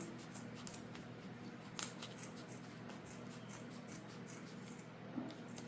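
Steady snipping and rustling of scissors cutting a piece of fabric for a rosary holder craft project, close and quiet, with a soft continuous background hum and no talk.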